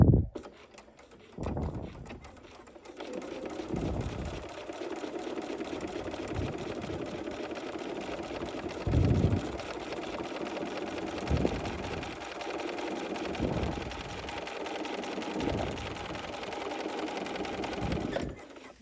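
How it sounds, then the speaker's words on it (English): Sewing machine straight stitching beside a strip of tape with an open toe foot 20D: a long run of steady motor whir and fast needle clatter, punctuated by several short low thumps and brief surges. "I'm not going to stitch on the tape, I'm just going to stitch right next to it."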